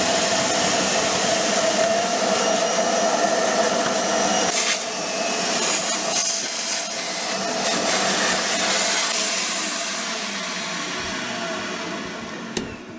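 A Hoover vacuum cleaner sucks liquid and gunk out of boat bilges with a steady, loud rushing whine that runs the whole time, with no talking.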